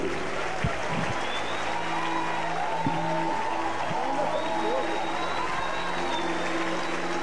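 A church congregation at a large gathering applauds steadily for a pastor and federal deputy, Marco Feliciano, with dense, continuous clapping throughout and a few voices faintly audible beneath it.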